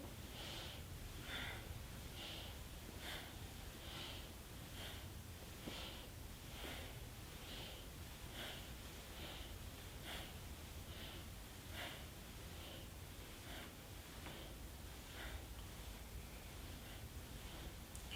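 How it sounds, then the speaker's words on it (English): Yogic breathing through the nostrils, a steady rhythm of soft, repeated sniffing inhales and exhales, about one breath every second, faint against a constant background hiss. "So inhale, exhale, inhale, exhale, and continue."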